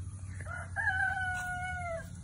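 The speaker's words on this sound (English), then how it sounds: "And that's Nana's chickens in the background." A rooster crowing at a distance in a backyard flock of chickens, one drawn-out cock-a-doodle-doo call of about a second and a half, faint over a low background hum.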